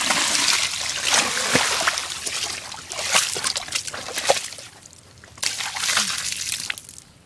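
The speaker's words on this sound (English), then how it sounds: "we're going to dump all this water onto these wallets" Water is dumped over a pile of wallets, splashing and splattering in repeated loud bursts with brief trickling lulls between pours, outdoors with no one talking.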